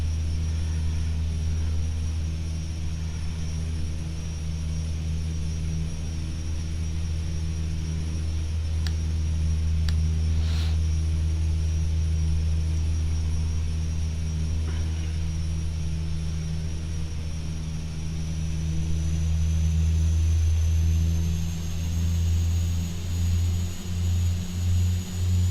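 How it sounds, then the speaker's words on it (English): A light aircraft holds a steady, loud engine drone as it takes off from runway 25, heard from inside with a constant hum and rumble that swells slightly toward the end, with no voices over it. "Runway 25 cleared for takeoff."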